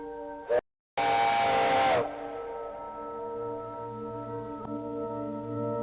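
A steam express locomotive sounds a long, loud whistle with a bright harmonic tone, followed by a sharp burst of hissing steam and then a quieter sustained whistle note fading on.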